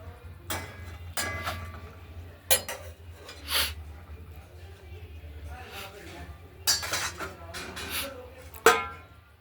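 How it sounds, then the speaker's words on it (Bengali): Boiled potatoes mashed in a pot of paneer bora curry, with intermittent clinking and scraping knocks of a utensil against the pot at irregular intervals over a low steady hum, close by. "তো আলু ভেঙে দেওয়া হলো, ঝোলটা যাতে একটু ঘন হয়।"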